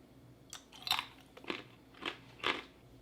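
Four crisp crunches spaced about half a second apart as a crunchy dried banana snack is chewed close up, with quiet pauses between bites.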